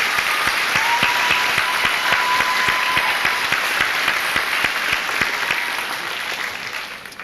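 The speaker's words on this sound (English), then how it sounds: "So let's give these people setting up in the bleachers a nice round of applause." A large audience in the bleachers at a Port Huron High School senior assembly claps steadily, with dense, continuous applause that tapers off slightly toward the end.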